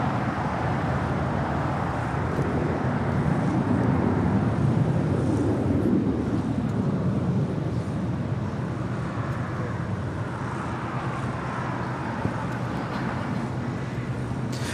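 A Boeing 747 airliner taxis toward the gates at LAX, its engines giving a steady broad rumble and whine that swells slightly midway and holds at a moderate distance, with no talk.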